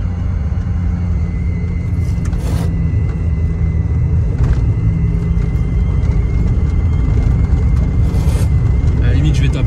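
Engine of a VW Polo G40 running steadily up close as the car drives, a constant low rumble with faint higher whine, while someone talks over it.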